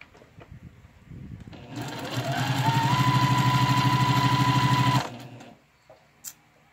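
A sewing machine back stitches fabric in a steady, loud, fast mechanical whirr that speeds up and runs for about three seconds before stopping, with quiet handling noises before and after.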